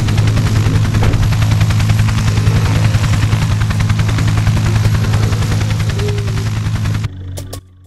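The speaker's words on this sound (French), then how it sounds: "donc c'est un hélicoptère qui descend" A helicopter descends in the Zombie Driver HD video game with a loud, fast rhythmic rotor chop and engine drone that holds steady, then cuts off abruptly near the end.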